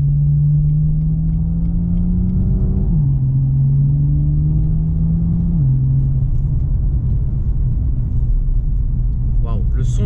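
A BMW M2 with a performance exhaust and an automatic gearbox drives through the Bois de Boulogne. Its loud, close engine drones low and climbs in pitch, dropping back twice as the gearbox shifts up.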